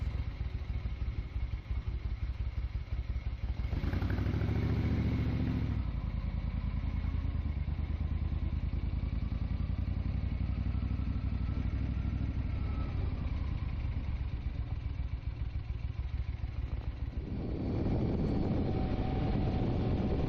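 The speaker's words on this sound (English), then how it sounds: "those are the healthy sounds of an old-tech air-cooled engine, with just the right amount of clearance at the tappets" Air-cooled Moto Guzzi motorcycle engine with old-tech valve tappets, running with a steady mechanical clatter and low throbbing idle, loud and close, alone without talk, with a couple of brief swells in engine roar.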